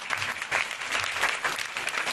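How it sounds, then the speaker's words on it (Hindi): An audience claps for an older woman seated at a Christian gathering, a steady patter of many hands at moderate distance, continuous through the short stretch with no talking. "ताली बजाएंगे आंटी के लिए।"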